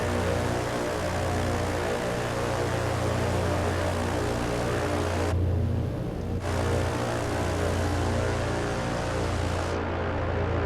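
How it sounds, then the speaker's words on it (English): A Britten-Norman Islander aircraft's engines in Microsoft Flight Simulator run with a steady, loud droning hum and low propeller tones, continuous throughout with only a brief dip in the upper hiss midway. "So this is the real sound of the aircraft"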